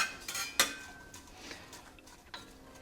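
A utensil clinks and scrapes in a stock pot as onion is stirred into oil for black bean and squash chili, with a few soft, irregular metallic taps and scrapes heard close and quiet.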